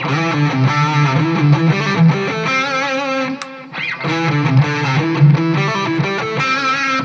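Distorted electric guitar, a PRS SE Custom 24 Floyd with Seymour Duncan pickups, playing a thick, sustained riff, loud and continuous with a brief dip midway.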